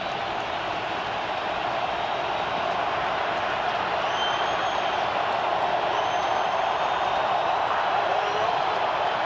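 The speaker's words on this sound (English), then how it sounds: "This crowd at a fever pitch." Stadium crowd at an NFL football game between the Jacksonville Jaguars and Denver Broncos, a loud, sustained roar of cheering and noise filling the whole stretch without letup, with no clear individual voices.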